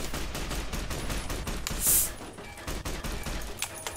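Rapid gunfire from the video game Fallout New Vegas, a dense and steady stream of shots that runs through the whole stretch at close range.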